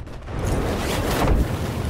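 Missile explosions in an Xbox video game, a dense, rumbling blast of broadband noise filling the whole moment, swelling loudest near the end.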